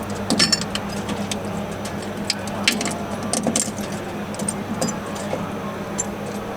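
An industrial shredder destroying hard drives and SSDs in Singapore, heard as a quiet, distant crunching and clattering with scattered metallic ticks and rattles over a steady low machine hum.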